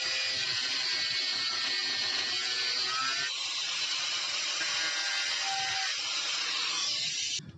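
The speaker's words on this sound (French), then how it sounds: "Donc on va juste la couper. On va couper la tête de vis." A power tool cuts through the head of an original seat screw in a van conversion, a loud, steady high-pitched whine that holds for several seconds before stopping at the end.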